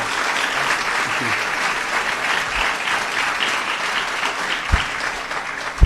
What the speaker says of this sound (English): Ladies and gentlemen, please, let's give Governor Phil Murphy a round of applause.